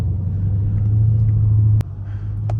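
A Chrysler 300 cruises on a late-night drive, heard from inside the cabin as a steady low engine and road rumble, loud and continuous, with one sharp click near the end and no talking.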